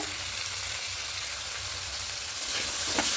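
Masala with tomato paste sizzles steadily while being sautéed for a katla fish curry, a close, continuous frying hiss with faint stirring scrapes and a slight rise in intensity near the end.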